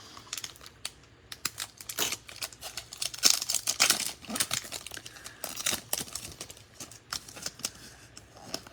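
A foil wrapper on a hockey trading card pack is torn and crinkled open up close, a busy run of sharp crackling rips and rustles, with no talking.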